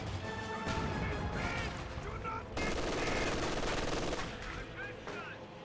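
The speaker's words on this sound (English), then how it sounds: "And now he's getting suppressed on machine guns" Sustained machine gun fire in a Company of Heroes 2 battle, Allies versus Axis, rattling in dense bursts across the whole stretch with a brief dip midway, mixed with other battle noise.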